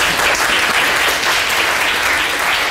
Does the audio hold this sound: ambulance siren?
no